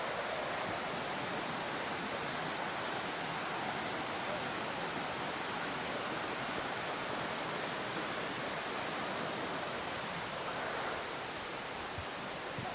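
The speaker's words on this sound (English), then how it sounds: "So that's where the sound of the water's coming from." Flowing water rushes steadily through an indoor rainforest, a broad, even wash of falling water that fills the space from start to finish, with no voices heard.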